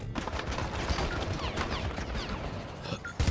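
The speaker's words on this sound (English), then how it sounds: "Gunshots!" Rapid bursts of gunfire in the video game Assassin's Creed Syndicate crackle in a dense volley, several sharp shots layered over one another, ending with a couple of heavy thuds.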